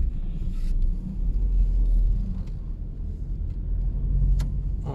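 A 2000s-era Opel Zafira 1.6 (101 PS) heard from inside while driving, a steady low engine and road rumble with slight swells in level, no voices over it.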